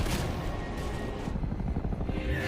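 Helicopter rotor noise in a zombie film scene as a nuclear blast wave hits the aircraft, a dense continuous low thumping roar with booming rumble that fills the whole stretch at steady loudness.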